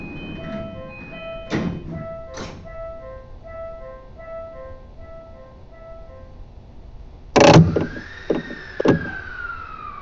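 Closing doors on a JR East E235-series Yamanote Line train: the door chime plays a repeating two-tone melody, then a loud hiss and thud as the doors shut, followed by a rising motor whine and sharp clunks.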